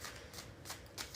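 Quiet riffling of tarot cards being shuffled, four short bursts spaced evenly apart, close and soft with no talking.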